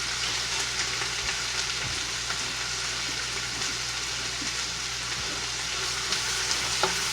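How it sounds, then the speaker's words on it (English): Onions sizzle steadily in a hot pan while a wooden spoon stirs them, giving a continuous close frying hiss with occasional scraping knocks and no talking. "I just want to stir the onions around"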